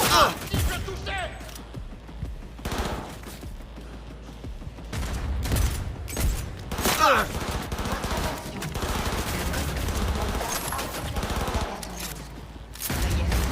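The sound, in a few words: gunfire in the video game Cyberpunk 2077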